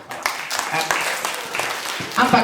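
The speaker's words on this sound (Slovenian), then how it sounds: "En aplavz za Jožefa, ja." A children's audience at a family puppet theatre claps in a short burst of scattered applause, with voices mixed in over the clapping.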